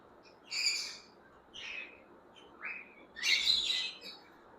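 Ringneck parrots give four sharp, shrill squawking calls in irregular bursts with short silences between them. The calls are moderately close over a quiet background with no talk.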